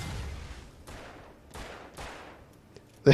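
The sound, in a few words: gunshots from the video game Alan Wake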